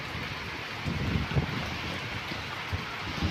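Heavy rain pouring during a May storm in Dhaka city, a dense, continuous roar of rainfall with occasional low thumps and gusts, heard close and alone.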